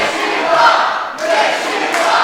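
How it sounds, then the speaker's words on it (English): At a wrestling show in Dagenham, a crowd chants and cheers loudly in support of a wrestler in two sustained waves of massed voices with a brief dip between them. "at least the crowd are supporting him and telling him he is worthy"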